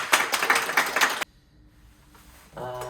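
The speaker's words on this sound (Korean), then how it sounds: "일단 박수 칩니다" Applause from an audience at a talk about a year spent sharpening blades, a dense burst of clapping that stops abruptly, followed by quiet room tone and a faint voice.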